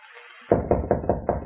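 Someone knocks on a door in an old radio mystery drama, six firm, evenly spaced raps following a moment of faint background sound.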